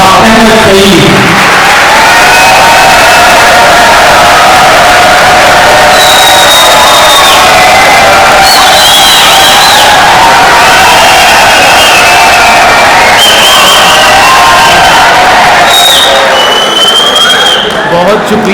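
Audience at a mushaira poetry gathering cheering, whooping and clapping for a poet, a loud, sustained crowd roar with shouts rising and falling throughout.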